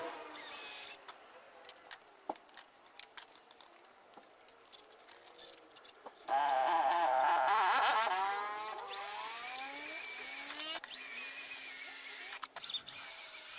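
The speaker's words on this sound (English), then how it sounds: "I drilled the holes for M6 bolts and doubled them with a big drill bit" Power drill biting into steel to bore holes for M6 bolts, scattered clicks and handling noises first, then a loud sustained whine with shifting pitch for several seconds before a steadier high drone, nearby.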